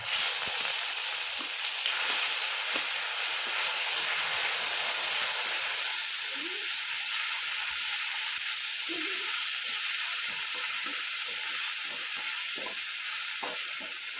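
Garlic and ginger paste hits hot oil with a loud, steady sizzle and crackle, spattering continuously without a break; the frying hiss grows busier and more textured partway through, as if stirred, for a cooking dish of hilsa shutki with potato and eggplant.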